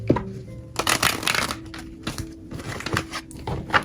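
Playing cards are shuffled close up in a series of quick riffling bursts and soft slaps, several separate shuffles with short pauses between them.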